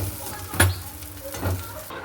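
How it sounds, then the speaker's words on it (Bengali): Ground leaf paste frying in a pan, a steady close sizzle broken by two brief scraping stirs of a spatula. "ভাজা ভাজা ভালো করে করি একটু শুকনো শুকনো না হলে তো হবে না"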